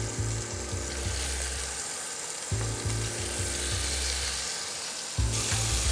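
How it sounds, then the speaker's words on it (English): Beef pieces for barbacoa tacos sear in a hot pan, a broad, steady sizzle running under a rhythmic, pulsing low rumble that repeats throughout. "once my pan is nice and hot, I'm just gonna pop these in single file"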